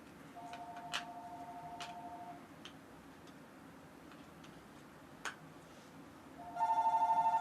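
A phone rings with an electronic trill, in two bursts, a faint one early on and a louder, steady ring near the end, over a quiet room with a few soft clicks and ticks.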